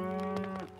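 A cow lows once in the village-building game Farthest Frontier, a short, clear, harmonic moo heard alone.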